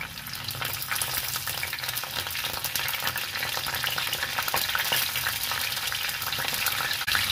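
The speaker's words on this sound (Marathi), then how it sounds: "फोडणी आपली तडतडते आहे" Cumin, cinnamon and black pepper crackle in hot oil as a tempering, a steady loud close sizzle with dense popping lasting several seconds and no voices.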